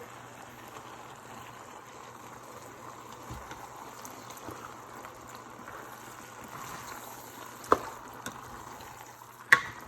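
Partly cooked rice stirred into tomatoes in a pot, a soft continuous bubbling simmer with low scraping and a few sharp clinks of the spoon near the end.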